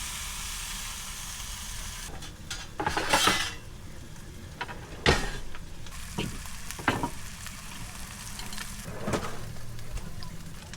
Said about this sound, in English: Let's drop in the steak. And use the cast iron press on this.